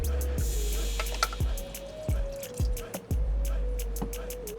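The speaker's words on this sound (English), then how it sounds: "we are going to drain the oil filter" Oil drips from a Honda car's oil filter as it drains, a run of distinct close drops and splats falling at uneven intervals over a steady low background hum.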